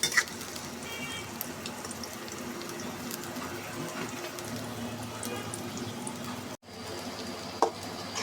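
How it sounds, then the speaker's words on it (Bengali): Chopped onion frying and softening in oil while river boal fish with eggplant is being cooked: a steady, moderate hiss and sizzle with faint stirring clinks, broken by a brief gap near the end. "পেঁয়াজের কুচিটা আমি নরম করে একটু ভেজে নেব"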